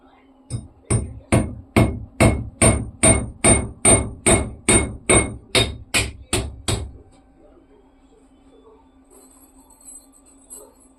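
A makeshift tool called a lauli stands in for a hammer, striking about fourteen loud, evenly spaced metallic blows in a steady rhythm, then stopping and leaving a faint hum.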